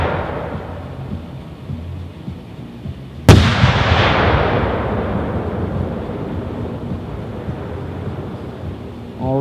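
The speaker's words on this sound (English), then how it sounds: "Eight-inch Dominator Flower Crown with blue pistol." An eight-inch Dominator Flower Crown firework shell with a blue pistil bursts in one sharp, loud boom, followed by a long, fading crackle and rumble that trails off over several seconds.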